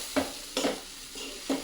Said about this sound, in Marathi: ते आता छानपैकी त्याच्यात मिक्स करून छानपैकी मिक्स करूया आपण.